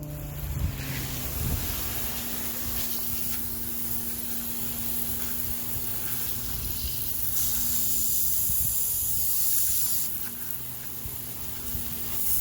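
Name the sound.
garden hose spraying water with pump turned on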